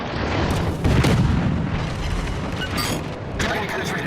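Ship explosions and gunfire in a naval warfare video game, a dense run of booming blasts and rumbling bursts at close range, loud and continuous, with a fresh burst of impacts near the end.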